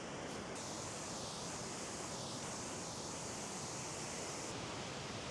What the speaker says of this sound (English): so this is Tangle Creek Falls.